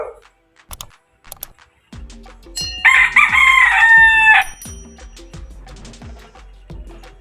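A rooster crows loudly and close for a couple of seconds, surrounded by scattered clucks and short chicken calls, with quiet gaps between.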